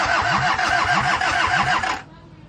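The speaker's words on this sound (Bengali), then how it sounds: "জাফর মোটরে একটা ইঞ্জিন স্টার্ট করা হবে।" A diesel engine that has sat unused for a long time cranks at a motor workshop, with a rapid rhythmic starter churn for about two seconds that stops abruptly without catching, leaving a quiet hum.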